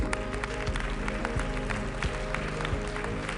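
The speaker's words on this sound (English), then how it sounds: "Please give a round of applause for Mr. Joseph Sikela, European Commissioner for International Partnerships." Audience applause at the One Health Summit in Lyon, a steady crowd clapping heard under a continuous low tonal hum or music bed, even and moderately loud throughout.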